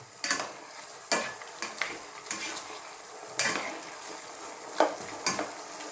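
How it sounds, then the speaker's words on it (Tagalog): Adobo of chicken liver and gizzard, simmered in vinegar, being stirred in the pan: a soft, bubbling sizzle with about eight scraping spoon strokes spaced irregularly, close up and with no voices. "Ngayon po, haluin na natin"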